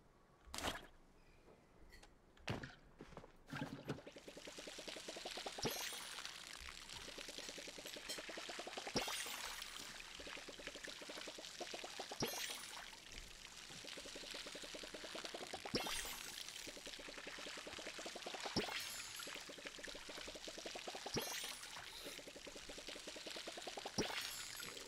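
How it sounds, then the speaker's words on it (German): Watering plants in the video game Palia gives repeated short splashing pour sounds, each a few seconds long, recurring in a steady rhythm over a faint ambient game background, quiet and close. "Das erste Mal gießen."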